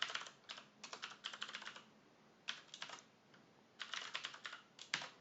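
Typing on a computer keyboard, with quick bursts of clicky keystrokes separated by short pauses, close and fairly quiet, and no speech.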